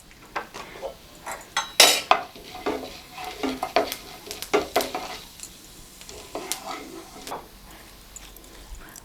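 Urad dal frying with mustard seeds in hot coconut oil, a light crackling sizzle broken by frequent sharp metal clinks and scrapes of a spoon stirring against the pan, close and without talk.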